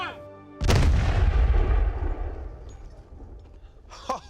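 A single heavy gunshot from a gun loaded with period-accurate ammunition during a control test, a sharp loud blast that rolls into a long booming decay, followed by faint voices.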